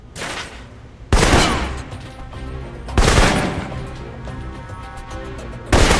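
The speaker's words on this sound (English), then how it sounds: "For long-range encounters, the assault rifle's the key" Assault rifle gunfire from the video game Protocol Alpha, with three loud, close bursts of rapid automatic shots spaced a couple of seconds apart and ringing tails between them.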